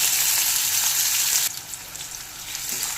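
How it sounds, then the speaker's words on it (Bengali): Chopped onion frying in hot refined oil in a wok for gondhoraj chicken, a bright, dense sizzle that abruptly drops to a quieter crackle partway through, close and without speech. "কড়াইতে দিয়ে দিয়েছি রিফাইন তেল তেলটা গরম হয়ে গেছে কুচু করে রাখা পেঁয়াজ দিয়ে দিচ্ছি"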